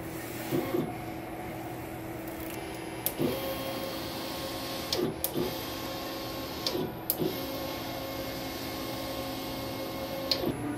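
An inkjet printer with ink tanks runs a nozzle check, producing a steady mechanical whir with periodic clicks and brief carriage or feed bursts every couple of seconds, moderately quiet and without speech.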